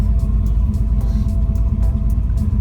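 A car engine idles and rumbles steadily while driving slowly around a parking lot, a low continuous drone with faint periodic ticks and no talking.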